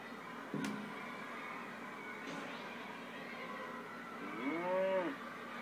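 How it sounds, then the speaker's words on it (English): A cartoonish cow moo from the Creatinator tool in LittleBigPlanet 2, one clear drawn-out low bellow near the end over a quiet game background, preceded by a couple of soft thumps and whooshes. "You could emit Elderflower the cow"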